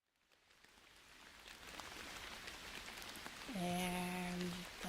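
A soft, hissy light-rain sound effect fades in and builds gently, with a brief tonal chime or beep layered near the end, faint and without speech.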